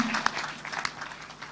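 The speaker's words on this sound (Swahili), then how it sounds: "Tumpigie makofi mazuri kwa sababu ametubariki." Audience applause at a gathering, a short burst of scattered clapping heard at a moderate distance, with a voice speaking over it.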